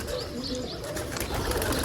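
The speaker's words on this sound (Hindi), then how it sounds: "ये देख लें कबूतर उड़ के जा रहे हैं" Pigeons taking off and flying away outdoors, with soft fluttering wingbeats and a few coos over steady low background noise, no talk.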